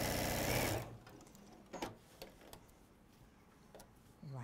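A domestic sewing machine stitching quilt blocks right sides together for a French General patchwork quilt gives a loud opening run of dense stitching, then stops, leaving only scattered small clicks and handling knocks.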